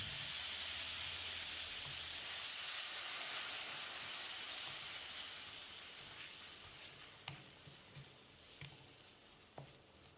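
Steady loud sizzling and hissing from a hot pan as a little water is added to chicken curry masala, bright and continuous, with a few faint clicks and taps near the end.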